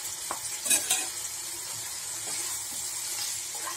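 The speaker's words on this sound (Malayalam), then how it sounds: "ഇനി നമ്മൾ വറുത്ത് വെച്ച ചിക്കൻ ഇതിലിട്ടിട്ട് നമുക്കിതൊന്ന് ഡ്രൈ ആക്കിയെടുക്കാം." Fried chicken for chicken kondattam is stirred in a pan of reducing gravy. A steady sizzle and bubbling are broken by a few clinks and scrapes of the spoon, heard close with no voices.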